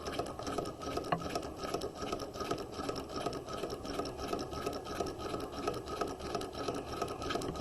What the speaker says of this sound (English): So basting stitch, largest stitch length, do not back stitch.